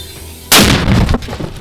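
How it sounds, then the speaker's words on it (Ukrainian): A single sharp, heavy firing blast from a large-calibre mortar bursts out of near silence, followed by a rumbling, crackling decay that lingers for about a second. "Працюємо великим калібром, працюємо прицільно. Постріл!"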